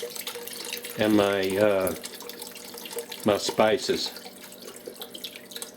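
Water runs steadily into a pot of shrimp and andouille sausage gumbo already holding chicken stock, a continuous close splashing pour heard beneath someone talking.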